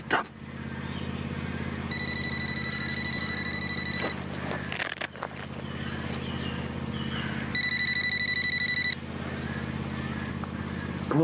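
A telephone rings in a room in two bursts of steady electronic trilling, the first about two seconds long and the second shorter, over a low constant hum with no one talking.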